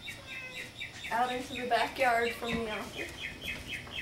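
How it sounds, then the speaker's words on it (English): Small birds chirp and tweet repeatedly in a backyard, with bright, rapid calls running throughout while a person talks over them in the middle. "You can hear the birds chirping out here."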